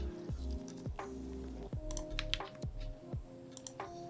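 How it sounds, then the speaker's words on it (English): Keys clack at a slow, uneven pace on a Tofu 65 2.0 mechanical keyboard, close and quiet, with scattered individual presses and no speech. "I am going to do one last typing sounds test"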